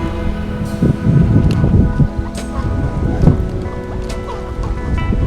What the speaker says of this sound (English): the wind is kicking up early this morning